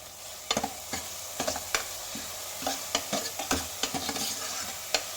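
Curry leaves frying with softened tomatoes in a pan for horse gram rasam give a steady close sizzle, broken by frequent sharp spoon scrapes and taps at an uneven pace.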